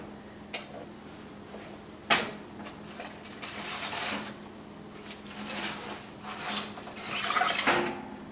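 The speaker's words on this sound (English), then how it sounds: "Take it out of the oven." A pan of matzah brittle comes out of the oven with metallic clanks and rattles, one sharp bang early on and then scattered scraping and clattering of bakeware, close by, with no talking.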